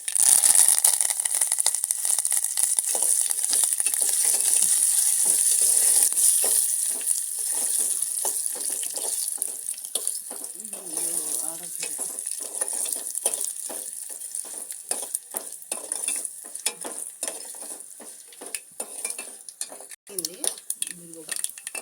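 Cumin seeds and curry leaves frying in hot oil give a loud, continuous sizzling crackle that slowly eases, with intermittent stirring rattles and a voice speaking over parts of it.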